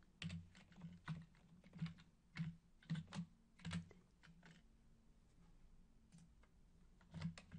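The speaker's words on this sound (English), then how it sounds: "I happen to know the 6-digit color code, so I'm going to type it in." Computer keyboard keys tapped in short irregular bursts while entering a six-digit color code, close and fairly quiet with pauses between clusters of clicks and no talking.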